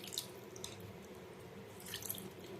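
Steady trickle of chicken broth being poured, with splashing that swells near the start and again toward the end, close by and fairly quiet.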